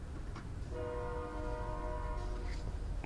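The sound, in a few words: passing train with horn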